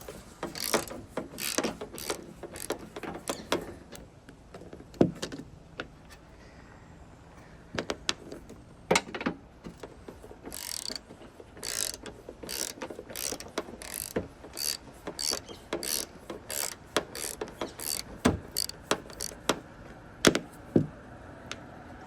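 Ratchet undoing a 10mm bolt on a 2007 Mazda MPV during front wing removal, heard as a long series of quick clicking strokes in irregular bursts, close and fairly quiet, with no talk.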